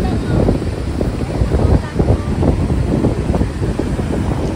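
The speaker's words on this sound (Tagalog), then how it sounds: "sobrang lakas ng alon" Strong surf on a beach at Botolan, Zambales, heard as a loud, continuous wash of waves with gusting wind buffeting the microphone, rising and falling throughout.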